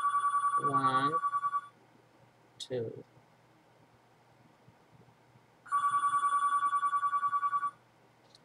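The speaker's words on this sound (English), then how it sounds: "I'm sorry about the phone." A telephone rings indoors in two clear bursts of rapid electronic trilling, separated by a pause, with brief speech in between.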